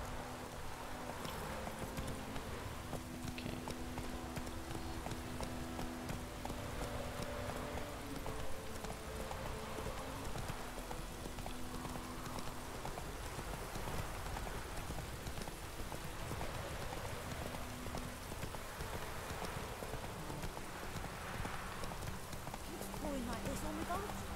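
Steady clip-clop of a horse's hooves trotting along in the video game The Witcher 3: Wild Hunt, with background music and occasional voices over a constant ambient bed.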